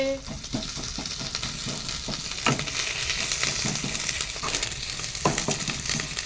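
Garlic paste fries in a pan with a continuous bright sizzle, punctuated by occasional stirring scrapes and light utensil knocks, with faint background voices.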